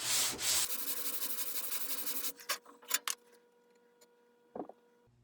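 A maple guitar fretboard is sanded by hand: quick, even back-and-forth rubbing strokes play close up for about two seconds, then give way to a few scattered scrapes and light taps over a quiet room.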